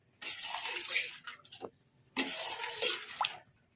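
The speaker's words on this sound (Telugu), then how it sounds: "కొన్ని వాటర్ అయితే పోస్తున్నాను" Water poured into a pot of cucumber and tamarind curry in two steady streams, each about a second and a half long, close and moderately loud, with a short pause between them.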